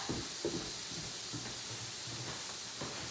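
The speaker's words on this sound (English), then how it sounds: "So you're watching the steak cook" A steak cooks in a pan with a steady broadband sizzle and hiss, a constant frying crackle with a few soft knocks, heard on its own with no talking.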